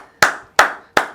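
Applause from a mimicry show audience: three sharp, evenly spaced hand claps ring out close and loud in quick succession, with no talking.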